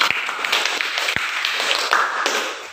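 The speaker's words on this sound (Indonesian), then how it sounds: "Aplaus dulu untuk kita semua." A classroom of students applauds together in a brief, dense burst of clapping with sharp, scattered hand strikes. It is fairly close and steady across the moment, with no talking over it.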